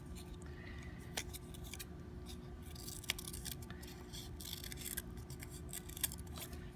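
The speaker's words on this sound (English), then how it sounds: "I am going to cut my crescent moon out of this yellow paper" Scissors snip yellow paper into a crescent moon shape, giving faint intermittent cuts, a few sharper clicks standing out over a low background hum.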